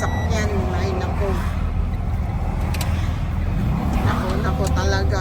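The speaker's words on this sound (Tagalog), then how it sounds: "Para maihatid na namin tong maingay na sasakyan." Noisy delivery truck driving toward Ottawa, Ontario, a loud steady engine drone and road rumble from inside the cab, with people talking over it throughout.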